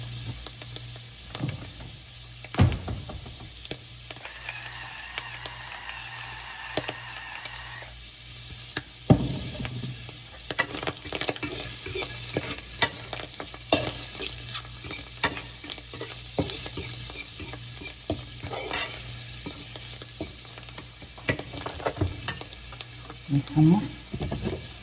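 Food sizzles steadily in a frying pan on a home stove, with repeated scraping and stirring strokes over the continuous frying hiss.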